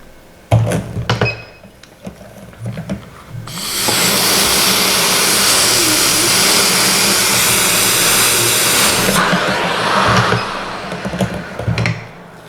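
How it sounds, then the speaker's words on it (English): A CPAP machine turned up to a pressure of 20, worn with mouth taping, blows a loud, steady rushing hiss for about six seconds, with soft thumps and rustles before and after. "I have my CPAP pressure turned up to 20 because I wanna really test the hell out of this"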